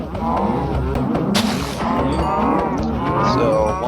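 Several cows in a video game moo over and over in a dense, overlapping chorus that is steady and moderately loud throughout.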